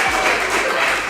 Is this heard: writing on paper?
no